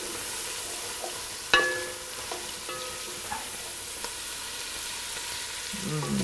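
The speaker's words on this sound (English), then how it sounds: "now we start with the carrots. Okay, and we give a nice turn to the carrots." Carrots sizzle quietly in a pan for Tuscan soup, with a few sharp clinks and scrapes from stirring near the start and a steady low frying hiss underneath. Nobody speaks.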